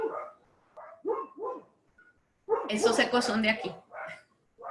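Dogs bark in short yappy bursts early on, then a louder, denser flurry of barking breaks out near the middle, with someone speaking Spanish between the barks.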